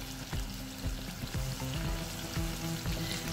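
Onions added to hot oil just used for frying fish, for an eggplant sauce, crackle and sizzle loudly and steadily, with a few louder bursts and clattering pan sounds.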